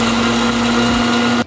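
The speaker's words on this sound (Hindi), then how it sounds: "जब ये ठंडा हो जाए तो इसे ग्राइंड कर लेते हैं।" An electric grinder whirs through dry-roasted spices for beef seekh kebab: a loud, steady high-pitched motor whine with a constant hum, cutting off abruptly near the end.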